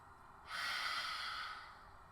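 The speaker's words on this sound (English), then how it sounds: "Take a deep breath in through the nose. Exhale out through the mouth." One deep breath during a vinyasa yoga flow in downward facing dog, a close, airy rush lasting about a second, with no voice over it.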